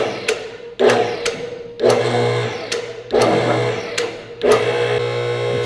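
A hydraulic car lift in a shop raising, a steady mechanical motor hum broken by repeated sharp clunks and rattling surges roughly every second, fairly loud and close.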